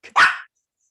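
A female dog barks once at close range indoors during an online conference call, with a soft yip just before the main loud bark and no talk over it.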